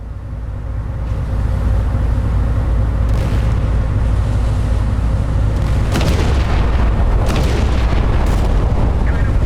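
A warship firing its guns in Battleship Command, with heavy rolling booms over a constant low rumble and a few sharper blasts in the second half, loud and without talk.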